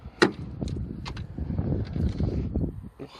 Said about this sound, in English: Apologies about the wind noise, viewers. We are right by the coast here.